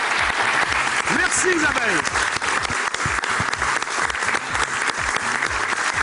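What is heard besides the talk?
audience applause for TV talent show contestant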